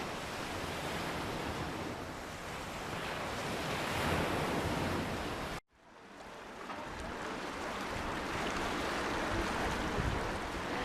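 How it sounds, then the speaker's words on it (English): Ocean surf and steady wind rush fill the scene at sea off Los Islotes, with splashes from mobula rays leaping out of the water. The noise drops out briefly halfway through, then resumes. "behind us you can both hear and see Mobula Rays jumping"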